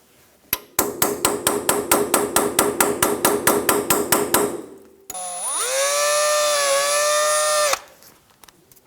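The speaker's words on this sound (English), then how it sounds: "Using a drill bit or a punch, try and remove the cotter pin out of the ball joint." Rapid metallic hammer strikes on a punch driving a cotter pin from a ball joint on a Toyota Tundra ring out in a steady run of about twenty blows, followed by a long rising whine of a power tool.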